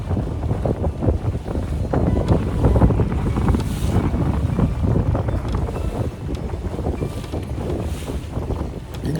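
Strong wind blows across Lake Okeechobee on a cold day, a steady loud roar of gusts buffeting the microphone with water slapping against a fishing boat.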